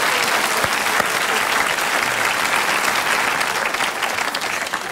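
Studio audience on a comedy panel show breaks into steady, dense applause that holds at full strength throughout, with no speech over it.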